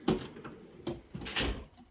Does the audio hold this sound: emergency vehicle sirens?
no